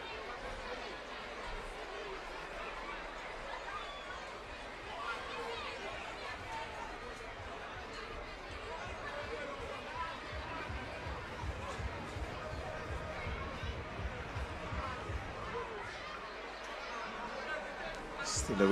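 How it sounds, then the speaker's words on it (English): A crowd murmurs and chatters steadily at an outdoor relay athletics meet in Victoria Park, a diffuse babble of many voices at moderate distance with no single voice standing out. "Very good crowd in support of this activity."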